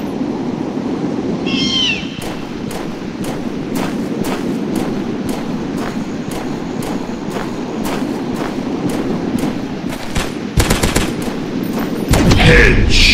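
Gunshots ring out in the Dinosaurs Hunter video game, a long series of sharp, evenly spaced reports over a rumbling background, ending in a quicker cluster of shots; a brief cat-like meow sounds near the start.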